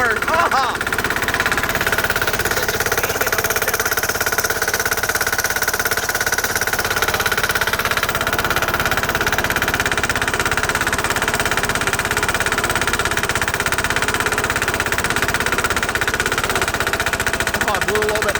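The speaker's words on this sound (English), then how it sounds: "I keep on getting snow in the blower" Sears/Bolens diesel tractor with a snow blower running steadily in snow, a continuous loud rumbling drone with knocking engine texture throughout, a voice exclaiming briefly over it.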